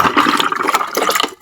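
Water gushes from a tap at an outdoor spot on an island, a close, splashing flow that runs steadily before tapering off abruptly at the end.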